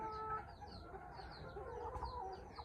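Several tiger-breed chickens cluck softly and continuously nearby, with overlapping low calls and a quiet background hum.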